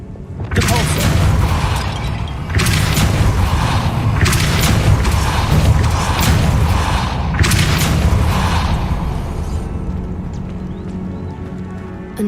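Depulso force spell in Hogwarts Legacy, heard as four loud, separate booming blasts a couple of seconds apart, each with a crashing, shattering edge over a steady low background.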